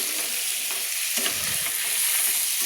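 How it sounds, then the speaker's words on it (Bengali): Raw chickpeas fried in hot oil with spices, a dense, steady sizzle close up with a few stirring scrapes and no talking. "দিয়ে ভালো করে একটু কষিয়ে নিলাম"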